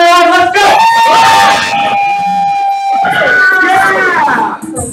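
A live-streamed gameshow audience cheers and shouts loudly and continuously, with voices whooping over one another close to the microphone for the full stretch.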